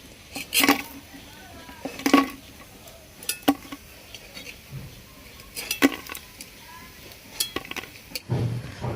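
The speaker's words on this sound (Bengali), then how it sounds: "বড়াগুলো কিন্তু আমার ভাজা হয়ে গেছে" Fried drumstick flower pakoras are lifted from an iron wok with a metal slotted spoon, giving sharp scattered clinks and scrapes against the metal over a faint background, with a low voice briefly present.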